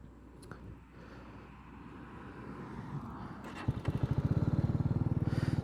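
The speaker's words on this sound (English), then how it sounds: "Not a bad sounding exhaust." A Hyosung GD250R single-cylinder 250cc motorcycle idles through its exhaust under low rumbling background noise, then revs up into a close, pulsing single-cylinder throb near the end.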